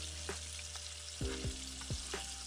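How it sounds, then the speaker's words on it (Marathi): Curry leaves tempering in hot oil in a kadhai, a quiet continuous sizzle broken by a few sharp spatters and pops, heard alone without talk. "एका कढईमध्ये तेल गरम करून त्यामध्ये कढीपत्त्याची फोडणी देऊ"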